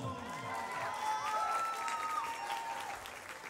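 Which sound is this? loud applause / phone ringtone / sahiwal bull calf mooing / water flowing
loud applause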